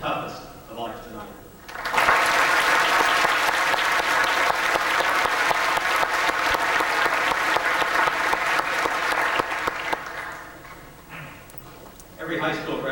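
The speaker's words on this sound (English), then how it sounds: "we owe another round of applause to Carolyn, Kate, and Jennifer" Loud, sustained applause from a high school graduation ceremony audience, a dense wash of clapping lasting about eight seconds before fading back toward a quieter hall.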